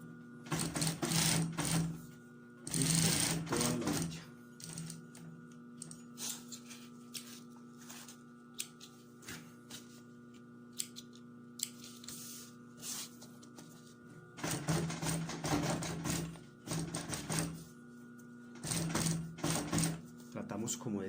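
Sewing machine backstitching a zipper pocket on a purse, in short clattering bursts separated by pauses, near and moderately loud, with a low steady hum between the runs.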